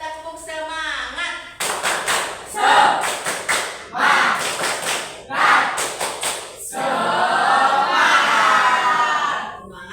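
A class claps out a rhythmic spirit cheer in a classroom, bursts of clapping in a patterned beat with brief voices between them, ending in a longer sustained round of clapping.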